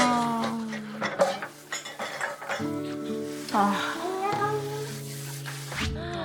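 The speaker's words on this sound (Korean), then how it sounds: "설거지도 하고" Dishes and cutlery clink and clatter during dishwashing in a home kitchen, with repeated close knocks and rattles throughout while voices talk over them.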